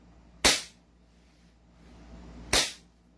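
Two sharp, close shots from a Godfather 6.0 gun, spaced about two seconds apart, each a loud crack that fades quickly into near silence.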